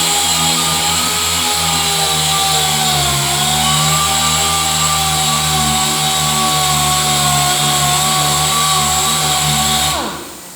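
A loud, close power sander whines steadily while grinding down body filler, then winds down and stops near the end.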